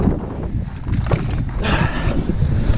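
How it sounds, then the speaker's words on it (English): Strong gusty wind roars across the microphone outdoors beside a truck hauling corn in eastern Iowa, a loud continuous buffeting rush that swells in surges with no one speaking. "We're blasting with all this wind."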